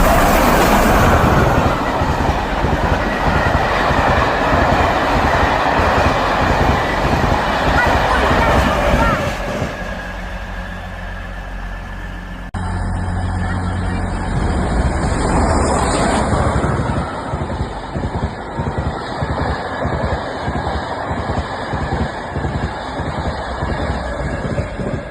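Steam locomotive Sir Nigel Gresley passing through Doncaster station, a loud sustained rumble with rhythmic clatter of wheels and wagons, wind buffeting the microphone, a brief dip midway and people talking nearby.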